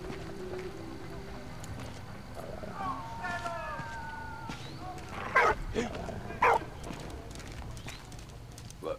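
Game dog barks twice in short loud bursts amid a scene with clip-clopping horse hooves and background music, with brief talk.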